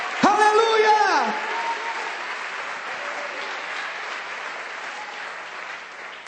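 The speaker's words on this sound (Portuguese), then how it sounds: "Dê um aplauso ao Senhor e libere um grito de liberdade." Church congregation bursts into loud applause with a shout at the start, the clapping staying steady and dense for several seconds before easing slightly.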